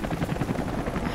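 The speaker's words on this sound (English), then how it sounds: "I hear a helicopter." A helicopter in the action game Rise of the Tomb Raider, set in Syria, makes a brief, loud, steady rotor thrum and engine rumble, close and continuous, with no talk over it.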